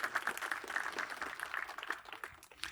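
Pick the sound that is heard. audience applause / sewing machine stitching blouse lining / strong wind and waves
audience applause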